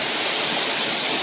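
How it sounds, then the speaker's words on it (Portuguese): Waterfall in Shizuoka, Japan, a loud, dense, unbroken roar of falling water heard close and alone. "É, mais uma cachoeira."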